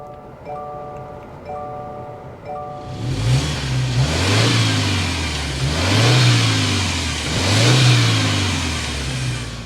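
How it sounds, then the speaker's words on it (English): A 2024 Subaru Outback Wilderness with the Boxer Turbo engine: a few electronic chimes, then the engine cranks and fires, revving up and settling several times in rising and falling surges of exhaust note. "Let's go inside, start it up so you can hear that exhaust note."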